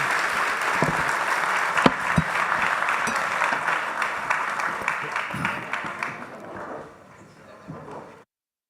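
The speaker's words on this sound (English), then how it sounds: "Can we give a round of applause to our esteemed panelists," Sustained applause from a summit audience for a panel of speakers, dense steady clapping for about seven seconds before thinning and ending abruptly.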